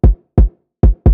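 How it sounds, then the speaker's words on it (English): A deep kick drum layered with fully wet room reverb hits four times in an uneven rhythm, each punchy thump trailing a short roomy tail. "So together, the kick and the room reverb sound like this."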